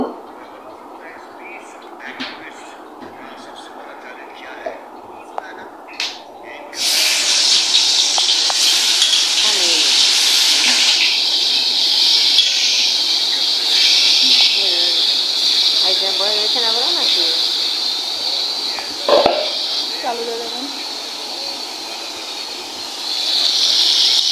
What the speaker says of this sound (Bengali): মাছ ভাজা শেষ